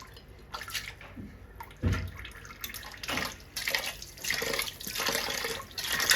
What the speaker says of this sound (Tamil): நல்லா க்ளீனாக கழுவணும்ல பிறகு.